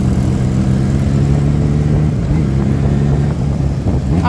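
A 2013 Kawasaki Z1000 motorcycle engine runs close and loud in a steady, throaty drone that holds for about four seconds, with no one speaking.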